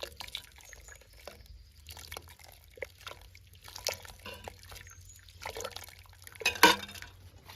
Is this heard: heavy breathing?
no